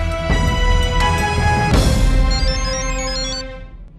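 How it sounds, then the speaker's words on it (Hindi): A telephone rings loudly with a bright, tonal electronic ring that repeats for a few seconds and then fades away, with no voices. "कलकत्ता से फोन है।"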